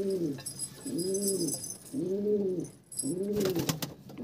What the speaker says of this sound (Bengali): এগুলো নতুন পায়রা, নতুন কালেকশন করা হয়েছে